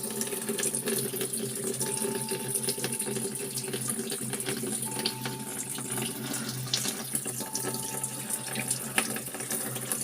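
Water rushes strongly into a repaired LG automatic washing machine, a steady, loud splashing hiss that runs unbroken throughout, with a faint tonal whine weaving in and out underneath.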